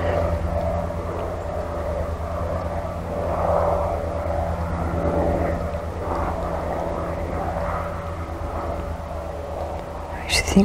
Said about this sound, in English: I actually think that's a helicopter, just down behind the trees.